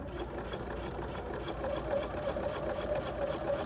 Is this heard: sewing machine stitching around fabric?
yes